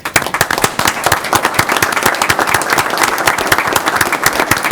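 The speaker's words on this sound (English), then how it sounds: "I think we owe them all right now a round of applause." A school board meeting audience breaks into sustained applause, loud and dense with sharp individual claps, continuing steadily throughout.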